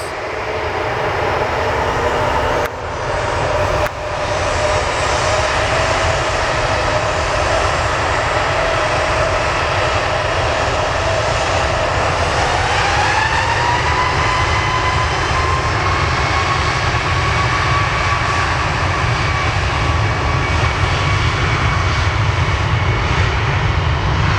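A Boeing 737 Max airliner taking off into fog at Portland, a loud, continuous jet roar with a rising whine that holds strong throughout, heard alone and fairly close.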